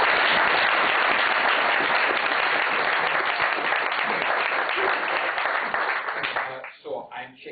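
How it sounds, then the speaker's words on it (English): Lecture audience applauding to welcome a professor, a dense sustained round of clapping that runs for about six seconds and then thins out into a few scattered claps and some low voices at the end. "let's welcome Professor Lankov with a big round of applause"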